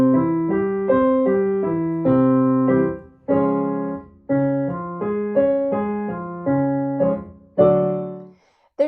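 Choir warm-up arpeggio played on a keyboard rising and falling 1-3-5-8-5-3-1, repeated several times and stepping up by half steps, clear sustained tones with no voices.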